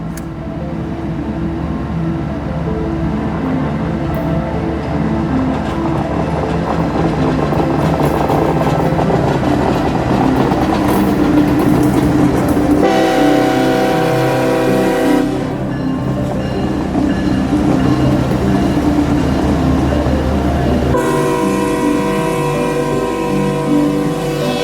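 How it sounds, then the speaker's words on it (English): A freight train hauling grain climbs a steep grade, its heavy diesel engines rumbling loudly and wheels clattering, with the horn blaring in long tonal blasts partway through and again near the end. "see just how steep of a climb this train has to take in order to hit Gainesville"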